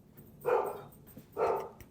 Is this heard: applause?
no